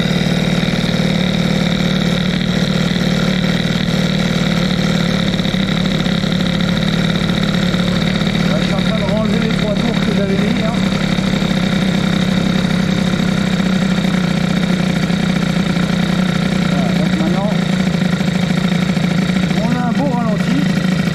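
A boosted cylinder head engine idles high and steady, a constant loud hum holding through the whole stretch while a voice talks over it at moments.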